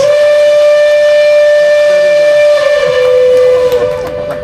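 A loud, sustained steam train whistle at a station's grand opening ceremony blows as one long steady tone for several seconds, then wavers and fades slightly at the end.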